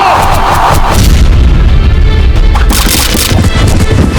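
Gunfire in a battle scene from a Maharana Pratap drama in which Rajput and Mughal forces clash: loud, heavy booming shots and rumbling blasts, close and dense, with a rough wind-like roar underneath.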